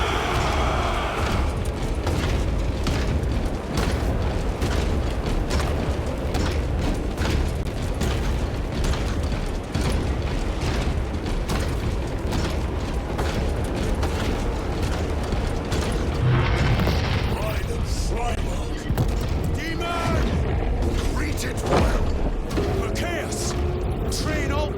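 Continuous dense battlefield din in Warhammer 40k Space Marine 2, with loud rumbling explosions, booming bursts and mechanical clanks throughout, while commanding voices shout orders over the noise.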